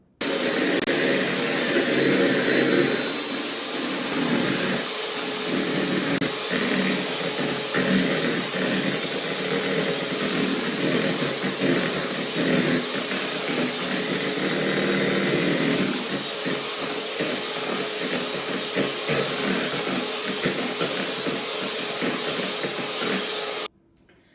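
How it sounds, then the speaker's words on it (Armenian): Electric mixer whipping egg whites with sugar in a bowl, a loud, steady motor whine with whirring beater noise that runs continuously for the whole stretch before cutting off abruptly at the end. "հիմա սպիտակուցը շաքարավազի հետ հարելու ենք, մինչև համոզվենք, որ շաքարի հատիկները ամբողջովին հանվել են"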